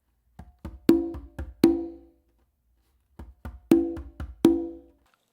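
Conga hand drumming plays a funk pattern of quick light ghost taps leading into bass, finger and ringing open tones, two phrases separated by a short gap, close and clear without talking.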